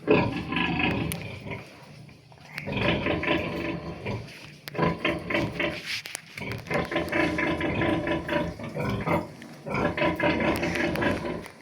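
Pigs and piglets at feeding time on a farm grunt, squeal and clatter at troughs in repeated busy bursts, close and fairly loud, with short pauses between.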